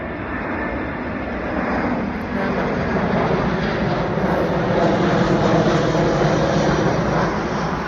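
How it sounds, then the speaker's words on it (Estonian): An airplane passes over a forest, its engine a steady, loud broadband roar that swells slightly midway and holds for several seconds with no voices. "Vaatame, kus see lennuk lendab nüüd."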